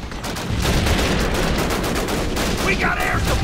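Dense, continuous machine gun fire from the World War II video game Call of Duty: United Offensive, a loud sustained rattle of rapid shots with battlefield noise filling the whole stretch.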